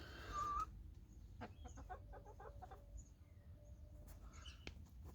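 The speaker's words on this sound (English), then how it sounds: "There they are, my little chickens." Soft, scattered clucks from a few chickens nearby, quiet and intermittent against a calm background with a brief higher chirp early on.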